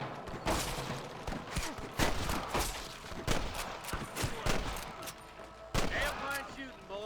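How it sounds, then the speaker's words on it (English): Rapid volleys of gunfire in a Red Dead Redemption shootout alongside deputies, with sharp repeated shots clustered in bursts and a heavy flurry near the end, mixed with in-game voices. "Damn fine shooting, boys"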